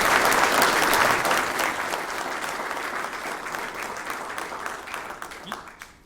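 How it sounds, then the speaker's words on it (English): Sustained, dense applause from an audience at a fire rescue awards ceremony as a Meritorious Service Award recipient is honored, loud at first and easing gradually over several seconds. "Let's give her a round of applause."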